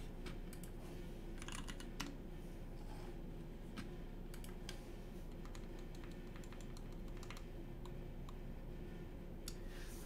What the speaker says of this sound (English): time for the typing test